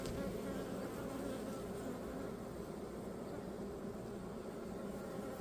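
Honeybees hum in a dense, continuous buzz inside an expanding hive full of hatching young bees, a soft, even drone with no talking.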